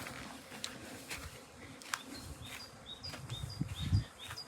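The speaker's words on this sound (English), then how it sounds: "let's not get chased by a swarm of bees" Bees hover around beehives at a rural camping spot in Spain, a soft, uneven buzzing with passing whines against faint outdoor ambience and a few bird chirps, no talk.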